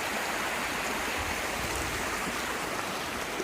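A small creek flows steadily near a lake, giving a continuous broadband rush of water with no breaks and nobody speaking.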